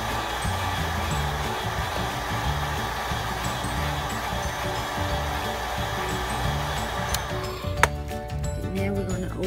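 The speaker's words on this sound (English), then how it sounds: "we use the heat gun to heat up on the bottom a little bit because the home flex sensor is under the screen" A heat gun warms the screen of a Samsung Note 5 phone during screen replacement, a steady blowing whoosh with a mechanical hum running throughout, then a sharp click and a clink near the end.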